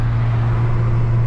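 Dense road traffic with many cars on a Brazilian highway, heard from inside a moving car: a steady loud low engine and road hum with constant tyre rumble and no gaps.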